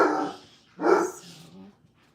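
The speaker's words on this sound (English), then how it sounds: "As you can tell, my dogs are very vocal." Dogs barking indoors during a live crafting stream: two loud, close barks about a second apart, each trailing into a softer whine, with no talk over them.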